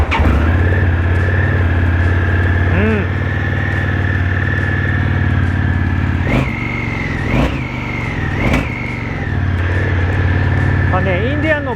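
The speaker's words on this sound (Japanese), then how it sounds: "ではエンジンかけていきます。" An Indian FTR motorcycle engine idles with a loud, close, steady throb and gets several short throttle blips that rise and fall, while someone talks over it.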